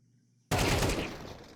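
A sudden burst of gunfire from a Counter-Strike 2 match erupts loud and close after near silence, a dense rapid volley that holds strong before tapering slightly, with no talk over it.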